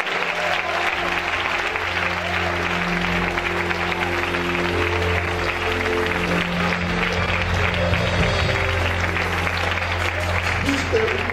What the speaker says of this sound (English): Let's give the Lord a good clap of praise.